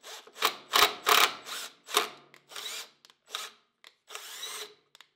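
Power drill boring a pilot hole for self-tapping screws in a woodworking shop, heard as a series of short, close, loud whirring bursts with brief pauses between them and no talking.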